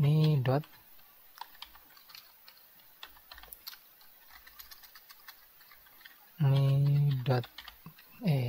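Clicks of typing on a computer keyboard while clearing an Excel combo box, irregular keystrokes close by between stretches of speech at the start and end.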